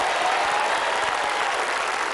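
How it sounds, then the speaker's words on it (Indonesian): Studio audience at an Indonesian family game show applauds steadily throughout, a dense even wash of clapping with no break and no talking over it. "Tepuk tangan dong untuk Mas Kevin."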